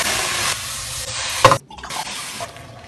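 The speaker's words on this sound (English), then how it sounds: "I'm gonna put the beef in the pan." Beef hitting a hot pan after being doused in Hennessy, a loud hissing sizzle with splattering bursts and a sharp clatter, then quieter crackling as it settles.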